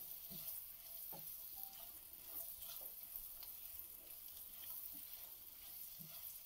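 Paneer cubes frying in a pan for a dhaba-style paneer butter masala, a steady soft sizzle with occasional light clicks of stirring, close and quiet, no voices.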